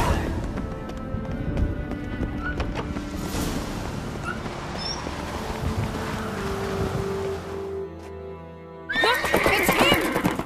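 A horse in a video game whinnies sharply near the end after a stretch of wind and ambient rumble, with faint clip-clop of hooves earlier.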